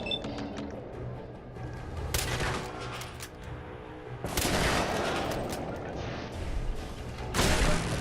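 Gunfire in the Fallout 4 video game: repeated bursts of shots and impacts crackle through the mix, with a heavy volley near two seconds and another sustained barrage from about four seconds on, fairly loud throughout.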